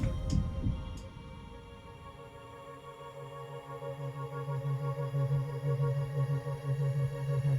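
A heartbeat sound effect in a song throbs at a steady, low pulse beneath sustained droning tones, building gradually in loudness.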